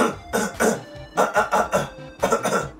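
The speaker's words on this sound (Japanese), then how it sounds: "これはあの咳払いの音なんだよね" A person clears their throat in several short, rough bursts, grouped in three rapid clusters with brief pauses between them.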